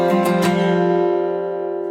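Guitar strumming an open-position suspended second chord with the low bass note held on the sixth string, a single ringing strum that sustains and slowly decays, heard alone.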